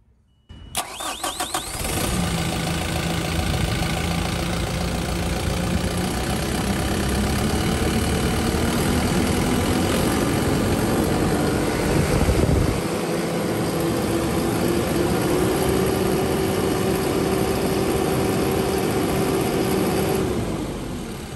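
A Tata Hitachi Shinrai Prime backhoe loader's diesel engine cranks briefly and catches, then settles into a loud, steady idle that runs close by for about twenty seconds, with no voices.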